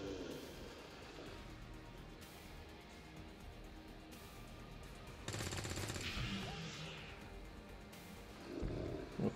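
Gunfire from resistance soldiers in the XCOM 2 video game: a dense, loud burst of rapid shots about midway, followed by further sharp reports toward the end over a continuous game background.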